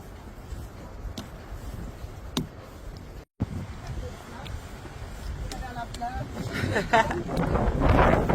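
Gusty wind buffeting the microphone on a coastal boardwalk path along the Portuguese Camino coast, a continuous rushing roar that swells louder toward the end, with a voice speaking over it.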